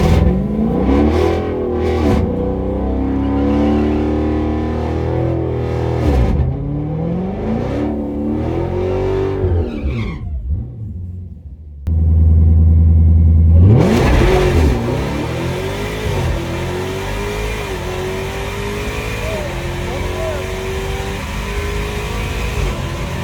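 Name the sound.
Dodge Demon 170 drag racing launch, engine revving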